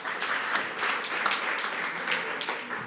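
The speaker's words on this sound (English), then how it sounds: "A big applause for him," An audience at a conference session on connected and automated mobility applauds a speaker, a soft, steady wash of many hands clapping at moderate distance.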